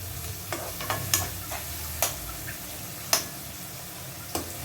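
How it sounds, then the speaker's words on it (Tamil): Steady sizzling of onions frying in a pan, with occasional sharp clinks and scrapes of a spoon stirring at irregular intervals. "அப்படியே வதங்கட்டும்"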